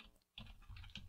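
Computer keyboard typing a Linux terminal command, a short run of quick close key clicks after a brief pause, quiet and alone.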